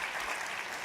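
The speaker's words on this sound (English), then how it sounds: "round of applause to them." A brief wash of audience clapping in a large hall at a conference event, steady and moderately distant, lasting under a second.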